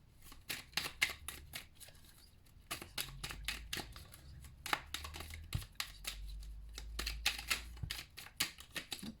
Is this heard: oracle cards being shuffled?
yes